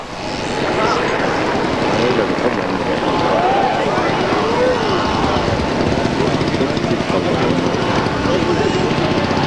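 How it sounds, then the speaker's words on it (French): A Supermarine Spitfire with a very narrow undercarriage, on a second takeoff attempt at a 1981 airshow in Yverdon, roars with a loud, steady engine drone throughout, while a voice talks over it. "Deuxième tentative de décollage avec ce spit au train très étroit."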